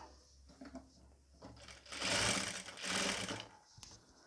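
A sewing machine stitches rolled piping along the neckline of an N-style nighty, its motor whirring in two sustained bursts separated by a short pause, close and fairly loud, with lighter clicks and handling before and after.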